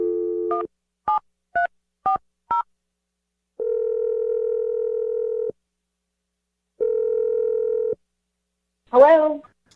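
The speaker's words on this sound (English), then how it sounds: "Let's dial the number right now." A phone line gives a run of short DTMF keypad beeps as a number is dialed, followed by two long, steady ringback tones separated by silence, and then a brief burst of a voice answering.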